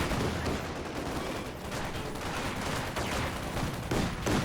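Video game battle with a grenade and gunfire, dense crackling bursts of shots and explosions running continuously at moderate level.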